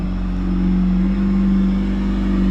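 A Honda CR-Z car engine rumbles steadily at idle, a low, continuous drone with a slight swell in the middle, close by and with no talking.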